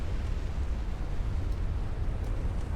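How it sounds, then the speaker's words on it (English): Warship explosions and detonating secondary batteries in a naval battle video game form a dense, continuous low rumble with booming energy throughout, loud and unbroken with no speech. "Wow, that is a lot of explosions."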